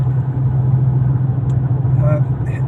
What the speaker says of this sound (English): Some people have said, "Oh, it seems like a lot of road noise," and suggest that I check the wheels.